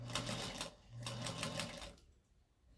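A sewing machine runs a quarter-inch seam on a patchwork zipper pouch, a steady mechanical whir with rhythmic needle clatter that stops near the end, heard close with no voices.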